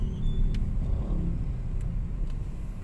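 Steady low rumble of city road traffic with cars moving and engines idling and revving, a continuous close drone with no voices.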